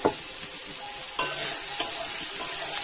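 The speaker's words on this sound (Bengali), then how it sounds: "মশলার সাথে মাছের মাথা খুব ভালোভাবে নাড়াচাড়া করে কষাই করে নেব" Fish heads being stirred and sautéed with turmeric, salt and spices in a pan, giving a steady close sizzle with a few sharp scraping stirs of a utensil.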